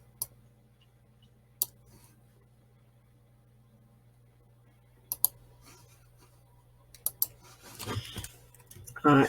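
Keystrokes on a computer keyboard come through in a quiet room as a few isolated, sharp taps. A quicker, louder cluster of clicks follows near the end.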